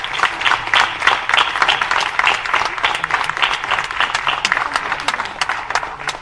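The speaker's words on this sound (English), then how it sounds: "Can we have a big round of applause for all the speakers?" Audience at a seminar on Sanatana Dharma applauding the speakers, dense hall clapping that swells early and stays sustained and fairly loud throughout.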